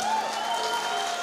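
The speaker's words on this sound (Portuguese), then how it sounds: "Não, mas pode aplaudir mais forte" A crowd claps and applauds steadily throughout, a dense, even wash of hand claps with no pauses.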